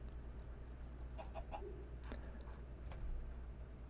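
Chickens in modded Minecraft give a few soft clucks, faint short calls over a constant low hum.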